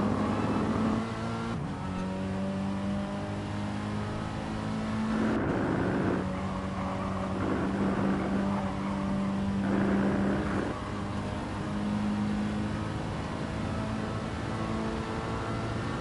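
Hot hatch race cars lapping a circuit in GT Sport, with sustained engine drone and gear changes rising and falling in pitch, a steady mid-level roar of several cars with no speech.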